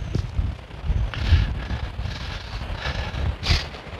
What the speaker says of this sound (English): Yes, it is windy, very windy